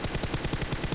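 Rapid automatic gunfire in a video game, a dense run of about a dozen evenly spaced shots within a second, loud and close with no pause.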